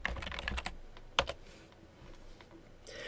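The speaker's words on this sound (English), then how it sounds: "I'm going to go ahead and type contact" Keystrokes on a computer keyboard typing contact information into a web page editor, a quick burst of close clicks followed by a couple of sharper taps, then quieter ambient noise.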